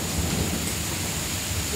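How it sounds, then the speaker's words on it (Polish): Hailstorm with thunder and heavy rain in Strzelce Opolskie, a loud continuous roar of rain and hail with low rumbling thunder throughout, no voices over it. "Chyba znowu grad."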